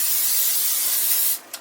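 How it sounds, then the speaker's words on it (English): Vegetable oil cooking spray hisses steadily onto a pan for a little over a second, loud and close, then cuts off, followed by one brief short puff. "spray your pan with vegetable oil"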